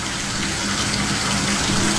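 Tap water gushes steadily into a bathtub that is still filling, a continuous close rushing splash with no pauses and no speech.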